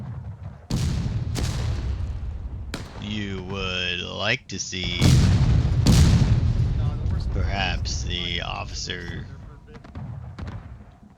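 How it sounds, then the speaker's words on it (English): Cannon fire in the Civil War game War of Rights, with loud booming shots fired from a hilltop in an uneven barrage, several blasts close together and someone speaking between and over them. "Still continues to be quite the barrage coming off of the top of this hill"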